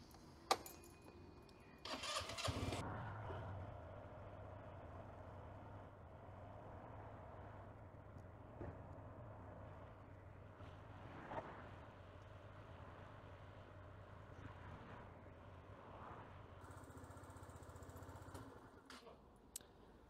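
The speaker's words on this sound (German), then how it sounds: "Und jetzt lassen wir den Motor einmal einige Minuten laufen." A small scooter engine idles steadily with a low, even putter after a brief clatter at the start, continuing at a constant level.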